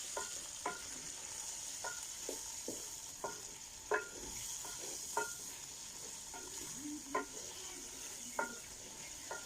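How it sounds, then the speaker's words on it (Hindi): Potato and cabbage fry in a pan in a village kitchen: a steady, fairly faint sizzle runs throughout, broken by a dozen sharp scrapes and taps of a spatula against the pan. "अच्छी तरह फ्राई कर लेना है 7 से 8 मिनट तक।"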